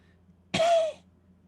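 A single harsh cough, close and fairly loud, during a dramatic reading of Shakespeare's Henry IV, Part 2, coming after a low background hum. The cough is probably voiced by the reader as part of the scene.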